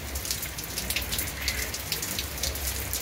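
Heavy afternoon rain pours down in Alagoas, Brazil, a dense, loud, steady wash of drops with brief crackling spikes of individual hits, with no speech over it.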